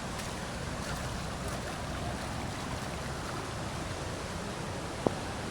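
Steady broadband rush of a waterfall reached after a short trek on a Mahabaleshwar road trip, a continuous even roar filling the scene with no speech.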